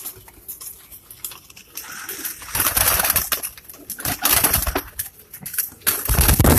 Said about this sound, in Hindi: फिलहाल तो थपेड़े पड़ रहे हैं कबूतरों के